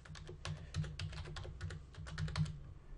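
An address is typed on a computer keyboard as a quick, uneven run of close, crisp key clicks, with small pauses between bursts. No one talks.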